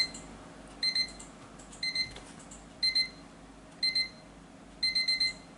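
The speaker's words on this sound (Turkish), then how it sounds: "Alarmımız duyuyorsun şu an. Gittikçe hızlanıyor." A digital desk alarm clock beeps in short bursts of rapid pips, the bursts repeating at regular intervals, growing longer and speeding up, fairly close and clear.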